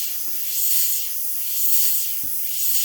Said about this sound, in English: Start spraying.